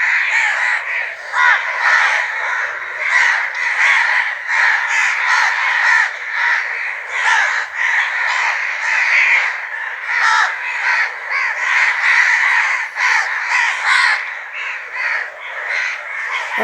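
A flock of crows caws at dawn in a village, their harsh calls overlapping constantly and loudly for the whole stretch, with no gaps and no voices.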